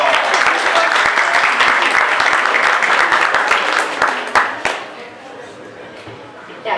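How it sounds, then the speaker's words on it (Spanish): Audience applause at a talk on seeds and food security, a thick wash of many hands clapping that holds strong, then thins and tapers into scattered claps and faint room murmur. "¡Un aplauso!"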